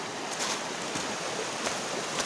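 Water runs steadily through an irrigation channel carrying it to hillside fields, a continuous broadband rushing hiss with no breaks.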